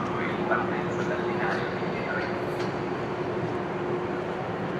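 Busy train station ambience in Italy with a constant rumble of rail noise, murmuring crowd voices and footsteps blending into a dense, steady wash.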